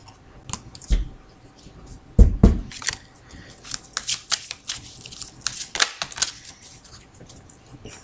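Tarot cards being shuffled by hand, a run of crisp papery riffles and flicks with one louder burst of card slaps, close and fairly quiet, with no talk over it.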